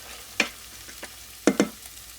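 Beef and sausage browning in a pan, with a soft sizzle under a few sharp scraping clatters as the meat is stirred, the strokes spaced irregularly.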